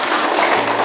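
Children in a classroom applauding together, a dense steady wash of many small hands clapping close by with no talk over it.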